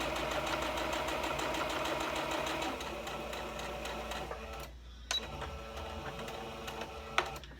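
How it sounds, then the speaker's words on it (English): A sewing machine runs steadily as it stitches a fabric seam, a close, fast mechanical whir with rapid clatter that stops near the end, followed by a couple of small clicks. "And sew it all the way down, leaving that seam open."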